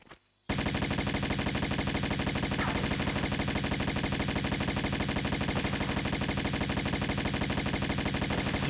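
Rapid automatic Uzi fire from the PS1 game Tomb Raider, a continuous fast burst of regular shots starting abruptly after a brief quiet moment and holding steady and loud to the end.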